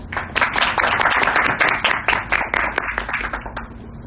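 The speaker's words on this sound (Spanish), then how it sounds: "Lo recibimos con un fuerte aplauso al doctor." Enthusiastic applause from a crowd fills the room, dense steady clapping that gradually thins out and fades toward the end.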